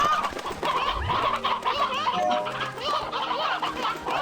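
Chickens cluck in the Slime Rancher game, a busy stream of short clucks and chatter layered over steady game music and ambience, moderately loud throughout.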